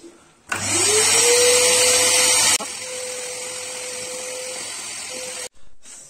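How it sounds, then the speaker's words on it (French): A household vacuum cleaner, plugged in to test newly installed house wiring, starts with a rising whine, runs loud and steady, drops to a lower pitch midway, then cuts off abruptly. "Donc, l'aspirateur est branché."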